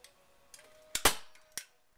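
A staple gun fires to fix a fabric-covered corner piece onto a wall cork board, giving two sharp snaps close together followed by a third, with light handling clicks in between.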